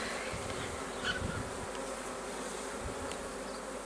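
A dense, steady buzz of honey bees packed on hive frames during an inspection, close and continuous, with a few soft knocks of handling and no talk.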